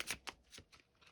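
Chakra oracle deck cards being shuffled in a quick riffling burst of four or five soft papery flicks, close and quiet, with no one speaking.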